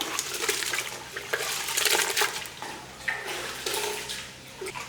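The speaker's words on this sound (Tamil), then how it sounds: "இப்போ வந்து கொஞ்சம் கொஞ்சமாக தண்ணி ஊற்றி நல்லா பிசைஞ்சோம்னாலே இந்த குப்பையெல்லாம் வெளியில் வந்துடும்" Water splashes and sloshes up close as millet grains are kneaded by hand in a bowl during washing, giving irregular wet squelches and gurgles that swell and ease in uneven bursts.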